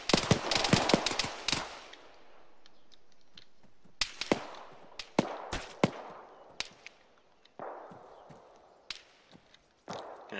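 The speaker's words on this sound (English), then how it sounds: "He doesn't know where those shots are coming from." Gunfire in the combat game Arma 3: sharp shots crack in a rapid burst at the start, then single and paired reports ring out at irregular intervals, some close and loud, others more distant with trailing echoes.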